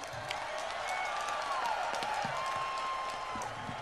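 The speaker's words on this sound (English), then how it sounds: "Let's give them a big round of applause." A festival crowd at a 2003 Bonnaroo concert claps and cheers, with sharp whistles rising over a dense, steady wash of applause and some voices mixed in.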